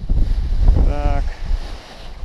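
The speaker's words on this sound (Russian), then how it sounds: "фоновый ветер довольно-таки плотненький" Strong background wind gusting across a paragliding launch with Hook wings, a steady loud rush filling the whole stretch, with a short breathy vocal sound briefly over it.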